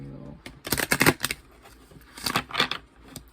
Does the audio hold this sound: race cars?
no